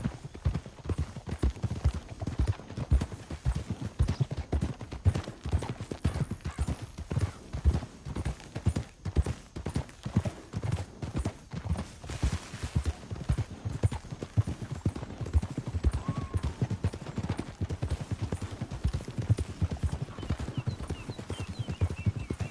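Horses galloping in the Western video game Red Dead Redemption 2, a dense, continuous rapid hoof-beat rhythm throughout, close and steady, with a faint whinny partway through.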